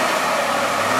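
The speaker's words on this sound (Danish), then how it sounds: "Prøv at høre her, hvis det ikke er stående start på bil nummer 2" A car engine at a military training ground revs up for a standing start, giving a steady, loud, broadband roar that holds for about a second with no talk over it.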